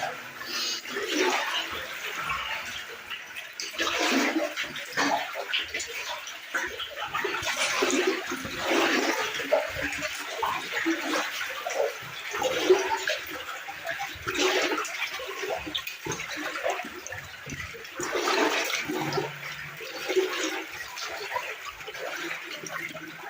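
Steady rushing water flows through an underground water adit, a broad continuous wash that stays even and close for the whole stretch, echoing in the tunnel with no talk over it.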